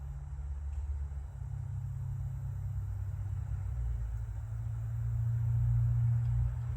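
A Datsun car engine running at a steady idle, a deep, continuous low rumble that swells slightly toward the end, heard up close with no talking.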